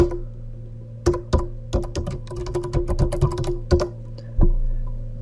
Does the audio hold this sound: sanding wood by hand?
no